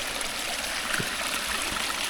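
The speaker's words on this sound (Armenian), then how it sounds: "Հաղթահարում ենք գետակը։" A small stream in a spring forest flows with a soft, continuous trickling and gurgling close by, with faint low thumps as hikers step across it.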